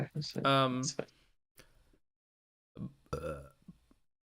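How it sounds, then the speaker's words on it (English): A single burp erupts amid close conversational talk, with pauses between. "I just burped"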